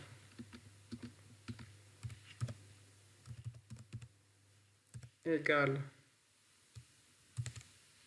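Keyboard typing while entering code in the R programming software, with scattered soft clicks and keystrokes at close range, a brief burst of louder activity midway, and a low steady hum underneath.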